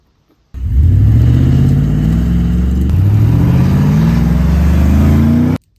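An LS-swapped 5.3-litre V8 in a four-wheel-drive Chevy Beretta revs hard and steadily in a burnout on a wet road, engine pitch rising and holding loud and close for about five seconds, then cutting off abruptly.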